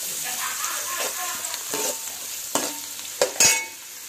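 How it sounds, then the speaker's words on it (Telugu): Onion and coriander fry in oil in a pan on the stove for keema, a steady close sizzle broken by several sharp scrapes of stirring. "కొత్తిమీర ఉల్లిపాయ మంచిగా మగ్గనివ్వండి స్టవ్ మీద ఆయిల్లో"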